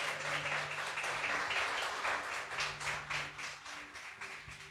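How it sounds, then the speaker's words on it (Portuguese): A church congregation applauds a missionary as he comes up, a sustained wash of clapping from many hands that holds steady and then slowly thins, no voices over it. "Vamos aplaudir o homem de Deus"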